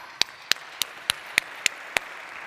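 Seven crisp single claps at a steady pace sound close and clear at a conference session, with a quiet room murmur in the background.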